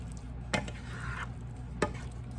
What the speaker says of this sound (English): Mix it around. Get everything nice and coated.